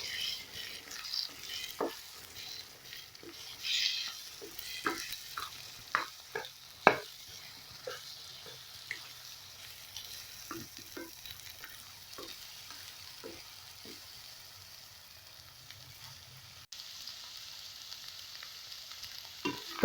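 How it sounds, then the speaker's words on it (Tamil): Half-cooked egg being broken up and stirred in a pan for Tamil-style egg rice (muttai sadam). A soft frying sizzle runs beneath irregular scraping taps of the spatula, some sharper than others, with faint kitchen ambience and no talking. "இப்போ இதை உடைச்சி கிண்டி விட்டுக்கலாம்."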